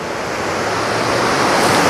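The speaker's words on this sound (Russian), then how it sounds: "А сейчас ветер, шторм на море" Strong wind and stormy sea surf on the beach at Anapa, a steady loud roar of breaking waves with buffeting wind noise on the microphone, no voices.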